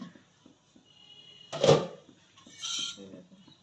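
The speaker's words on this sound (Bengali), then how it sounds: "আমি ঢাকাটা খুলে দেখব" A lid comes off a cooking pan of lote fish with a single clear metallic clank, followed by a brief rush of steam and some light kitchen clatter.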